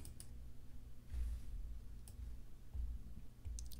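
A computer mouse clicks a few times, sharp and faint, spaced irregularly over a low background hum. Nobody speaks.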